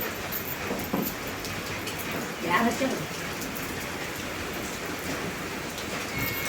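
Steady rain falling on a surface, a continuous hiss with a few brief louder spatters, fairly close.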